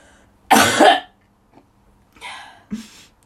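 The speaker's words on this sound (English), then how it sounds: "Just gonna cough at me" Someone coughs in a loud, harsh burst, then after a short pause gives two smaller coughs close together, the sounds close and dry.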